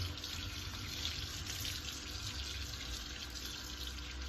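Tap water running at moderate flow into a sink while chicken thighs are rinsed, a steady, close, even splashing rush throughout, no talking.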